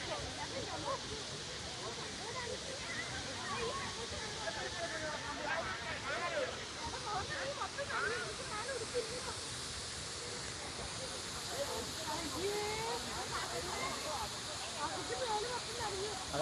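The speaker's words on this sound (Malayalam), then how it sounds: "ആ വെള്ളച്ചാട്ടത്തിന്റെ ബാക്ക്ഗ്രൗണ്ട് കിട്ടുന്നുണ്ട്." A waterfall roars steadily in the background as an even, broad rush, while people talk nearby over it.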